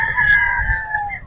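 A battle stag rooster crows once on a farm, a clear sustained call lasting just over a second, close and loud, with faint background noise underneath.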